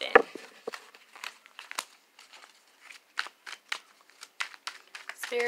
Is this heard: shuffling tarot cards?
yes